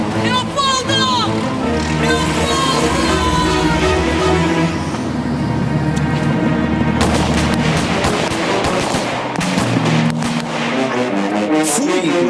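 Gunshots exchanged in a violent confrontation, dramatized in a Brazilian crime reenactment, arrive as loud sharp bursts layered over dense music and shouting voices through much of the scene.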